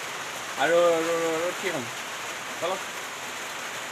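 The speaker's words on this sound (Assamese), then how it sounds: "আৰু তাম বৰষুণ দি আছে এতিয়া।" Heavy rain pours in a constant, close wash of hiss while a person speaks briefly over it.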